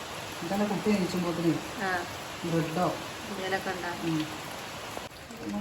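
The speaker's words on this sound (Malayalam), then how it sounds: "ചെറുങ്ങന മഴ പെയ്യുന്നുണ്ട്" Light rain falls steadily outside a home in the evening, a soft continuous patter running beneath a person talking nearby.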